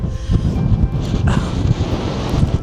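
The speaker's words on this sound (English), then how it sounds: "It's very, very windy as we're on the North Sea" Strong wind off the North Sea by a dike in Denmark rumbles and gusts loudly against the microphone, a constant blustery roar with no one speaking.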